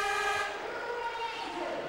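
A basketball shot-clock buzzer blares in an arena during a 2006 Spanish LEB league game between Autocid Burgos and Gandia, a loud sustained tone that fades out, with a commentator talking over it.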